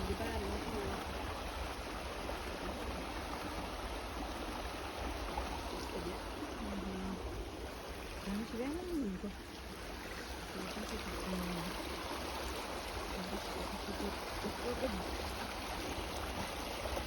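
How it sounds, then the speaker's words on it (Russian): A small, stony river flows steadily during a hike, a continuous close rushing and gurgling of water, with people talking at times. "Интересные камни здесь. Такая речка."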